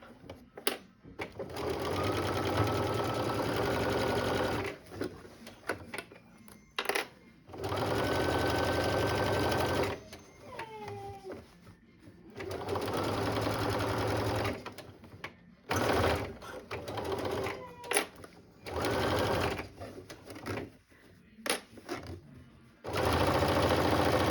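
A sewing machine stitching up the side of a bag runs in several long bursts of steady motor whir and needle chatter, close by, separated by pauses with small handling clicks.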